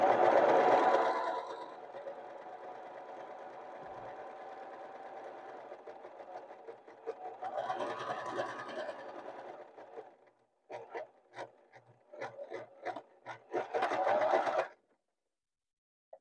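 A sewing machine stitches down the folded hem of a standard pillowcase in long steady runs, then pauses and restarts in short bursts of stitching before stopping.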